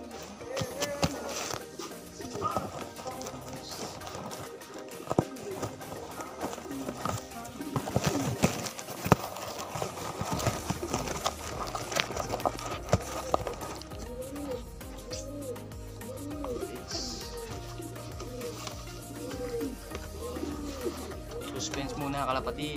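Pigeons coo softly in a loft, with low repeated calls and rustling and wing flutters, while a person speaks intermittently nearby.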